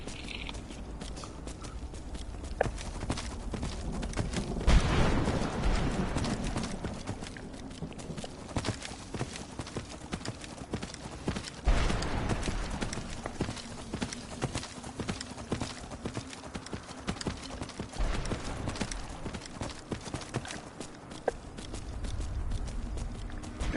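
Rhythmic clip-clop of horse hooves at a brisk pace in Skyrim continues throughout, with a faint whinny and occasional louder thumps; no talking.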